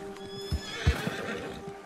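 A horse in the video game Red Dead Redemption 2 whinnies and neighs, with a few hoof clops close by over a faint steady ambient bed; no one speaks.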